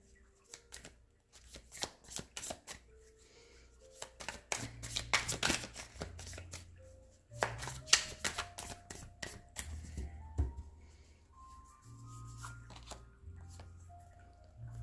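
A tarot card is drawn from a deck, with close, crisp papery snaps and shuffling riffles in quick bursts, while a soft melodic background tone drifts underneath.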